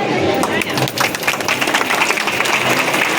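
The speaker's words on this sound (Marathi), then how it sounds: "टाळ्या" Guests at a traditional Konkan engagement ceremony break into lively clapping, a loud, close wash of many hands mixed with chatter and voices from the crowd.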